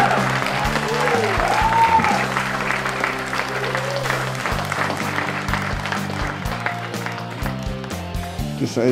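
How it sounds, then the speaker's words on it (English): Audience applause for Rich Thomas at the end of a live show, sustained clapping blended with loud music that plays throughout, and a voice briefly heard. "Give a clap for Rich Thomas, everybody!"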